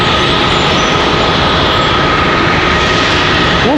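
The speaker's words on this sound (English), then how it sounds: "smoky startup out of an A319 over here" An Airbus A319 airliner's jet engine spools up during a smoky startup at a Charlotte airport gate, a loud, steady broadband roar with a rising whine near the end.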